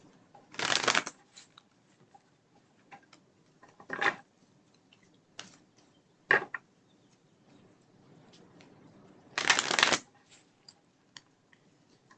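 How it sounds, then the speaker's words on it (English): Tarot cards shuffled by hand in three or four short riffling bursts, crisp and close, separated by quiet gaps with faint handling noises. "Good, nice shuffle going on there."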